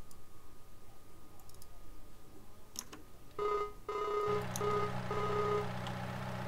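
A telephone call rings in Farming Simulator 19, a repeating electronic ring tone that begins after a few faint clicks and continues steadily to the end, with no talking.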